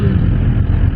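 A Suzuki GSX-R1000R motorcycle engine, a loud close burst of dense, throaty engine roar lasting a moment.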